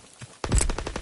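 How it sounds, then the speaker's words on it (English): Strafing gunfire from a fighter aircraft in a video game opens after a brief quiet moment as a loud, rapid burst of close, rattling shots that continues to the end. "Fighter aircraft in your area. Call for a strafing kill run."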